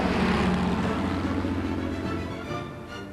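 An early British wartime propeller aircraft of the torpedo-carrying or seaplane type in flight, a dense, steady engine-and-propeller drone that is loud at first and eases slightly toward the end.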